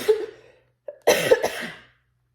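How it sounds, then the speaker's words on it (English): A woman nine months pregnant gives a single sharp cough, then a harsher, longer cough after a short pause, close and fairly loud. "I never knew how much it would hurt to cough at 9 months pregnant."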